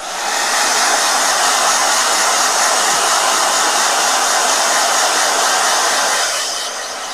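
A blow dryer runs continuously at close range, a loud, steady broadband whoosh that holds for several seconds before easing off slightly near the end, with no voices.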